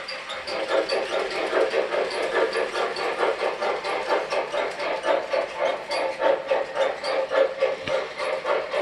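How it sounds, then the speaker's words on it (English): An MTH Railking L3 Mohawk model locomotive runs around a toy train layout, giving a steady, continuous rolling rumble with a rhythmic clickety-clack over the track joints at close range. "you're going to be able to see a difference in how this locomotive operates around the layout"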